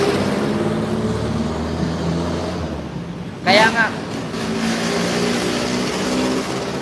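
Jeepney engines and street traffic make a continuous rumbling drone with a brief sharp higher-pitched burst midway, while someone talks over the noise.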